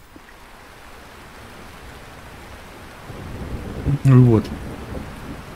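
Rain with a rumble of thunder in the farming game Lightyear Frontier, a steady wash of rainfall building louder near the end, with a voice speaking briefly over it.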